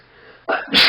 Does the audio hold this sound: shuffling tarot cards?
no